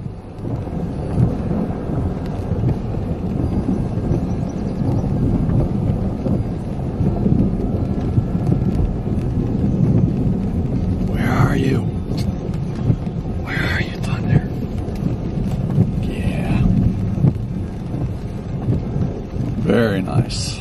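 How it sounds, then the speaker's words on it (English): Deep thunder rumbles steadily through a rainstorm while a drone is flown from a car, with wind buffeting the microphone and someone speaking briefly at points. "Thunder going on."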